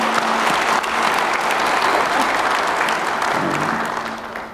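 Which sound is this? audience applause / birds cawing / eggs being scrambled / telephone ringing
audience applause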